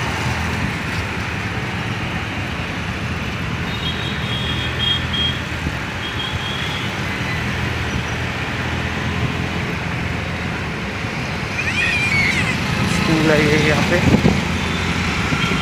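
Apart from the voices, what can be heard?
road traffic in Hyderabad city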